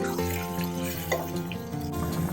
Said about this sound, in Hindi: सारी यखनी इसके अंदर चली जाएगी